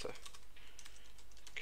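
Rapid, steady clicking of keys on a computer keyboard while coding a Python game, close and moderately loud, with no voice heard.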